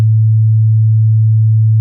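A steady, low 110 Hz pure test tone hums continuously at constant loudness for the whole stretch, with no other sounds.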